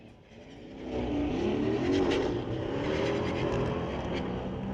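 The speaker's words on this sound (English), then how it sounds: "Another Volkswagen Golf R" A Volkswagen Golf R launches down a drag strip at a street-legal drag night at Mission Raceway Park, its engine rising from a distant hum to a loud revving roar that then holds as the car pulls away.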